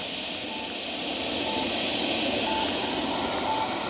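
An FMS 80mm F-86 Sabre RC model jet lands, its electric ducted fan giving a steady loud whooshing hiss that swells slightly mid-way, heard alone without talking.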